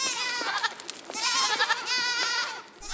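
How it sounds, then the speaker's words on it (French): Several miniature goats at a forest breeding farm bleat loudly and close by, overlapping cries repeating across the whole stretch with only brief gaps. "Ces adorables petites chèvres"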